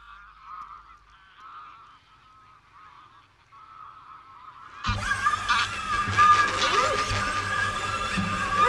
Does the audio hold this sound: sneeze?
no